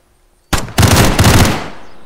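Video game gunfire in a nighttime roleplay session: a sharp burst opens after a half-second of quiet, followed by a sustained rattling volley of automatic shots that fades out near the end, loud and close.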